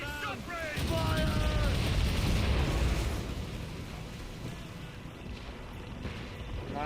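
Broadside cannon fire from sailing warships in the naval game Assassin's Creed Rogue, a heavy booming blast rolling into a long rumbling wash of sea and wind, with shouting crew voices over it.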